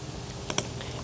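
Two quick clicks from a computer keyboard while code is typed, soft and close in a quiet room.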